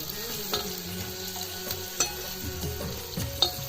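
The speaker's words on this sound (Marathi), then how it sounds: "आपण तेल टाकून लसूण टाकलेली आहे आपल्या तव्यावर आता टाकतोय मस्त कांदा" Onion sizzles steadily with garlic in hot oil on a griddle pan, with occasional scraping and stirring knocks from a utensil.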